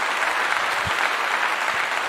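A single person claps quickly and steadily, close and fairly loud, for about two seconds.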